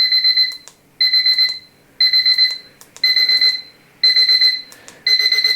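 A Reacher super-loud electronic alarm clock rings in a steady pattern of quick beep clusters, one cluster each second, piercing and close by, growing louder.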